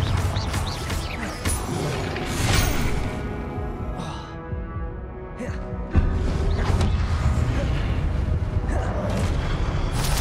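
The Confringo blasting spell goes off in Hogwarts Legacy with loud, booming explosive bursts and crashing debris, layered over dense, continuous game noise and a short quieter lull in the middle.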